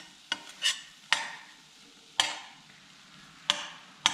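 Turmeric frying gently in butter over low heat, a quiet hiss broken by a few sharp scrapes of a spoon against the pan, spaced out and close, with no voices.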